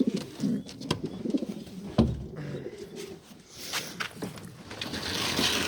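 Pigeons coo close by inside a coop, their soft throaty calls rising and falling across the clip with light rustling in between.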